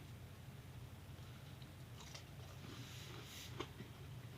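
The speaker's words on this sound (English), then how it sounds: "That crunch is unbelievable." A bite into a crunchy homemade mini corn dog: a few crisp, crackling crunches midway through, close and fairly quiet over a low background hum, with no talking.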